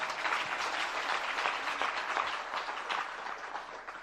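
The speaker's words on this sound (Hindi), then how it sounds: "जरा तालियां बजा दीजिएगा" A seated audience at a Jain religious discourse in Sanganer claps for their guru, a dense, steady wash of many hands that fills the whole stretch at moderate volume, with no pause.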